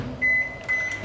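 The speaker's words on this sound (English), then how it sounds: "it's time for the microwave" A microwave oven running in a kitchen while food heats, a close, steady hum with two long electronic tones sounding in succession.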